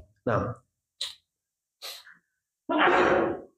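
A single sharp sneeze bursts out close and loud at the end, after a short spoken word and a few quick breaths and sniffs spaced by silence.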